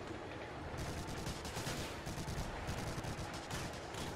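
Faint, steady rattle of gunfire in a Medal of Honor: Allied Assault battle set in the North African campaign, shots crackling continuously at low volume as if from some distance.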